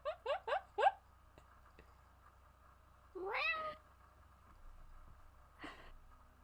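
A cartoon cat meows: four short quick mews in a row, then a longer rising meow and a final brief one, clear and close against a quiet background.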